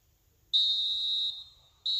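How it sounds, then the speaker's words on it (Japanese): A referee's final whistle in the FIFA Mobile football game sounds as one long, clear, steady blast, then a short second blast begins after a brief pause. "ここで試合終了のホイッスル。"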